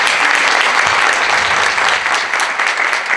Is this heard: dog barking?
no